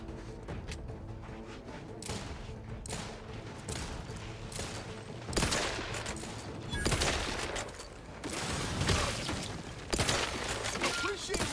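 Repeated gunfire bursts and sharp shots in a sci-fi shooter game set in Fairfield, Outer Worlds 2, steady and fairly quiet amid clattering mechanisms, with occasional voices speaking between volleys.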